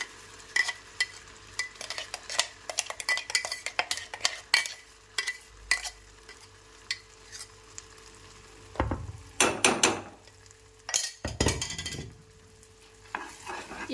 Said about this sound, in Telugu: బటర్లో ఒక్కసారి ఈ మసాలా పేస్ట్ని ఈ విధంగా ఫ్రై చేసుకోండి